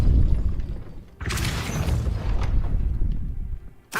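A Depulso spell cast in Hogwarts Legacy lets out a deep booming blast with a rumbling tail, loud and close, followed by a second sharp hit at the end.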